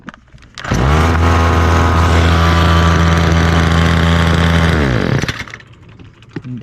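A Homelite whipper snipper (string trimmer) running after fresh fuel and a new spark plug: a loud, steady two-stroke engine drone that holds for about four seconds, then cuts off abruptly.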